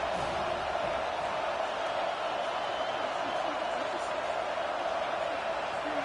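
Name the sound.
football stadium crowd cheering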